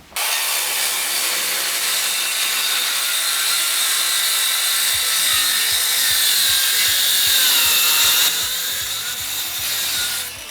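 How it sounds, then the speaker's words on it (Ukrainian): A Dnipro-M CS 185 M circular saw whines loudly and continuously as it bites through a thick wooden beam, with a rapid rhythmic thumping underneath, close and alone. "Я хочу по максимуму завантажити цю пилу і разом з вами подивитися, як вона працює"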